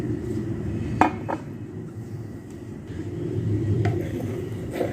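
Sugar being mixed into milk in a bowl, with a few sharp spoon clinks against the bowl and soft stirring scrapes over a low background rumble.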